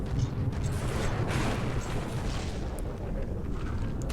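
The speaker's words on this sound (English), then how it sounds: "Yeah, it's already exploded." A ship blows apart in the naval combat game From the Depths, a sustained low rumbling roar of explosion and debris filling the whole stretch without pause, with no talking over it.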